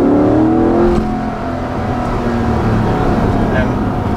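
A 2020 Chevrolet Corvette Stingray 1LT Convertible engine, the same unit used in the Camaro, revs up loud and close, then eases through a shift and keeps pulling in a steady droning tone.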